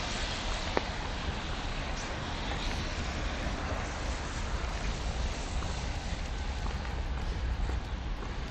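Steady rain patters at a bay on a windy day, a continuous dense hiss with faint surf or water movement beneath, no voices.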